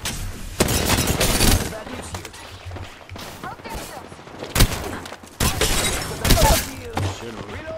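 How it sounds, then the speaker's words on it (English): Video-game gunfire in repeated loud bursts and rapid volleys with heavy impacts, mixed with a player talking. "Getting shot at."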